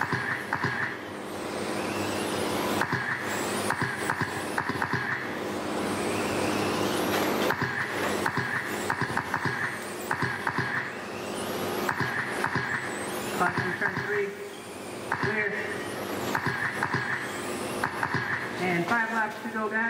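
Modified race cars lapping a track in a heat race, engines roaring continuously and loud with passes rising and falling, while a voice talks over the din.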